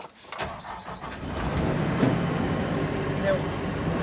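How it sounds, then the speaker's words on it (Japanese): A newly delivered combine harvester's engine cranks and catches, and a loud, close, steady rumble builds and holds after the first half-second. "ちょっとエンジンかけてみるか。"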